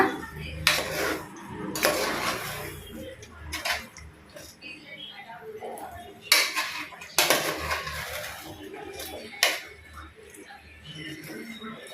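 Chicken pieces are stirred into a pot for a chicken curry, with a spoon clattering against the metal in irregular bursts of scraping and clinks. A voice talks quietly in between.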